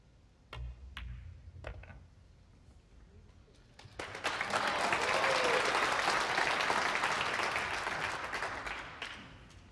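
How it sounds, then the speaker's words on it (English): A few sharp clicks at a World Pool Masters match in Kielce, 2012, then a crowd bursts into loud, sustained applause and cheering that swells and holds, with faint voices mixed in. "just listen to the cheer again"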